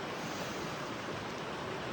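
A river flows beside a trailside camp spot on the Pacific Crest Trail in Washington, a steady, even broadband rush of water that stays constant and moderately loud throughout, with no voices.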